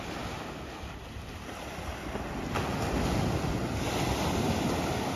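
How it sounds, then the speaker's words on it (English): Ocean waves washing onto the beach at Khao Lak, Thailand in the morning, a steady broad surf roar swelling slightly louder toward the end, mixed with wind buffeting the microphone. "You hear the waves and see the ocean."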